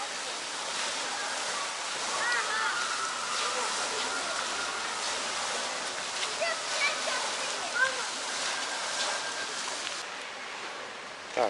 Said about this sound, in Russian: Осенний фонтан.